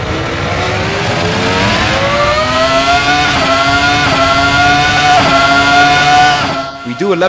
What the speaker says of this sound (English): On the back straight, we can see again that the engine is able to hold its own very well.